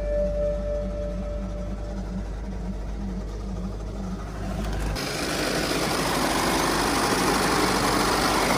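A damaged BMW G80 car engine idles with a steady, throbbing low hum, then a loud, rough, broadband roar takes over halfway through and holds to the end.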